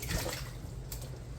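Sweetcorn is lowered into a container of cold water, giving a brief close splash and slosh of liquid that settles into a soft watery murmur.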